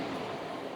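A brief stretch of steady train rumble at a Lao high-speed railway station, a continuous rolling noise heard from fairly close.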